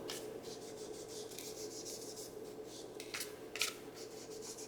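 Soft rubbing and scraping as ink is worked along the edges of a folded paper envelope, faint, close strokes repeating in short bursts over a low background hum.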